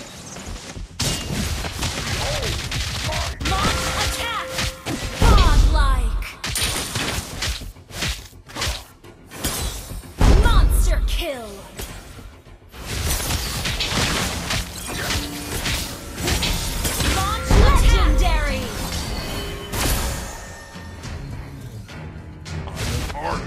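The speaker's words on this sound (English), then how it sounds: "Your team destroyed a turret!" Heavy crashing booms and thuds of a turret being destroyed in a multiplayer battle video game come in repeated bursts over busy combat effects and whooshes. Announcer-style voice lines occur in the game sound.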